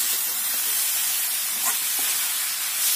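Mustard greens for sarson ka saag fry in an open pan over high heat while being stirred, giving a steady, loud sizzling hiss with faint scraping touches.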